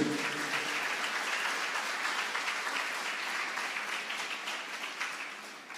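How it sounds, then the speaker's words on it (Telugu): A church congregation claps loudly and continuously during a Sunday sermon, a dense, even wash of applause that fills the whole stretch and tapers slightly at the end. "చప్పట్లు కొట్టండి గట్టిగా"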